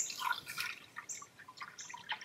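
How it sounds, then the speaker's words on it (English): Water drains out of a holed bucket hung on a shepherd's hook, a quiet close trickle of irregular drips and small splashes. "pick it up, hang it on this little shepherd's hook plant thing, and drain the water out"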